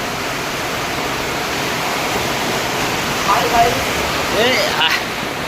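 Strong water rushes beneath a bridge near a large canal in Durgapur, a broad steady roar close by, with brief voices and a few high calls breaking through near the end.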